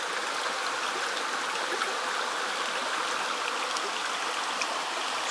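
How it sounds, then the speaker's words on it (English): A stream at the source of the Nišava river rushes and trickles steadily, a close, continuous broadband wash of flowing water with no voices. "And the river literally starts from here. So this is the beginning"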